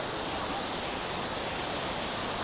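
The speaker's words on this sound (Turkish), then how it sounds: "Ve şelale devasallığıyla yukarıda göz kamaştırıyor." Kapuzbaşı waterfall gives a constant, loud, broadband roar of falling water, steady and unbroken from start to finish.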